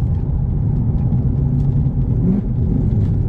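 Infiniti M45 with a VK45DE V8 and a Tomei aftermarket exhaust, recorded while driving and downshifting: a loud, steady low rumble and engine drone from inside the car, with no speech.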